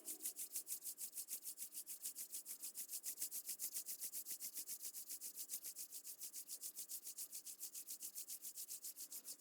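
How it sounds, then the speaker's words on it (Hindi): Palms rubbed briskly together during a yoga session, a close, quiet, rhythmic swishing friction repeated at a steady fast pace without pause. "अपनी हथेलियों को रब कर लीजिए।"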